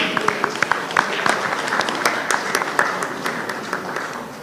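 A round of applause at an annual general meeting: a roomful of people clapping steadily at moderate distance, the sound easing off toward the end.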